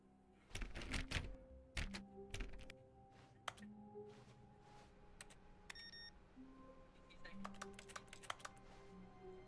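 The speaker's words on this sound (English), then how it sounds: "Why does it make keyboard noises every time I touch stuff?" Bursts of computer keyboard typing clicks sound as objects are touched in The Stanley Parable video game, arriving in quick irregular clusters with a few soft beeps, moderately close, over a quiet background.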